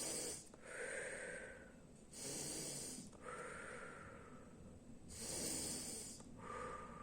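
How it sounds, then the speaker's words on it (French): Short, rapid breathing in a morning breathing ritual, with even-strength inhales and exhales alternating in a steady rhythm of hissing breaths, close and clear with no talking. "c'est la respiration, inspire, expire, courte, brève, de même intensité"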